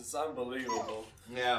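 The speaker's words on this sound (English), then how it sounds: "I apologize for my dogs" A dog whimpers and yips close by while people keep talking over it.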